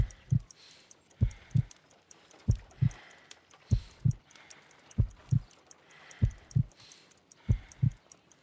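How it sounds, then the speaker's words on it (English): Slow, weak heartbeat in the Sherlock Holmes: Crimes and Punishments video game, a pulse of about 50 beats per minute heard as muffled low lub-dub pairs repeating evenly, alone with a faint hum behind. "I need to concentrate and count the heartbeats."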